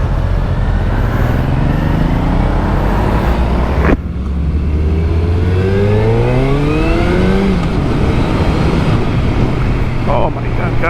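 A Suzuki Hayabusa sport motorcycle on a test ride, its engine climbing loudly through the revs in rising sweeps, dropping back at each gear change and pulling again, with steady wind roar throughout, close and continuous.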